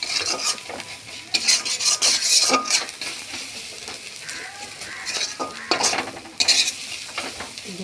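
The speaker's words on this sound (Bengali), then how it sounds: "আমি পটলগুলোকে সব একটা একটা করে ভেজে" Pointed gourds (potol) fry one by one in a pan with a soft sizzle, broken by scraping and metallic clinks of a spatula against the pan in irregular bursts.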